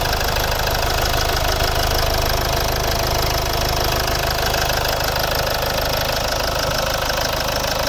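A 2010 Mitsubishi Outlander XL with a 2.2-litre diesel and automatic gearbox idles with a steady clattering knock, loud and close, unchanging throughout with no voices.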